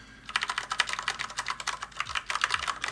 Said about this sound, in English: So this is the Moonlander keyboard